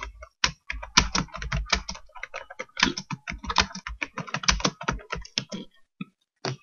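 Fingers tap out an email on a computer keyboard in quick, irregular bursts of crisp key clicks, close and clear, with brief pauses between runs and no talking.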